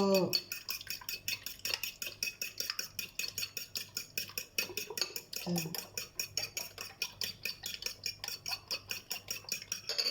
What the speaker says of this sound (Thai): ตีไข่มันเข้ากันเนาะเจ้า